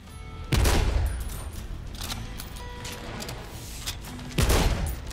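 Two heavy blasts from a double-barrel shotgun in a western roguelike shooter game, each a loud booming report spaced about four seconds apart, with quieter game ambience and clatter in between.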